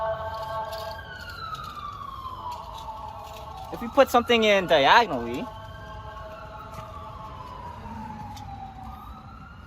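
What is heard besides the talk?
siren in the background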